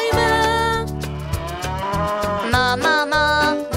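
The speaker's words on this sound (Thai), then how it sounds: "เสียงวัว ถูกต้องเลยนะจ๊ะ" Cow mooing in a farm animal guessing game for preschoolers, several long loud moos in a row, played alone with no talking.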